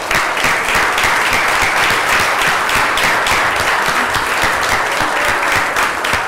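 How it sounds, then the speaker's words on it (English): A standing congregation gives a round of applause for church staff, dense continuous clapping that stays loud and even throughout, with no talk breaking through. "let's give them a round of applause."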